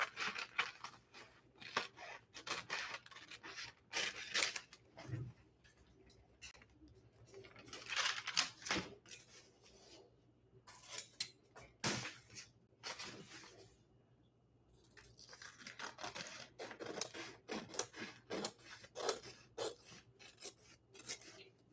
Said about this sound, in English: Better the scissors, the better the cut, obviously.